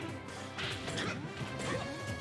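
A forward smash attack lands in the video game Smash Legends, giving a dense crash and thwack of impact amid busy game effects, with no talk over it.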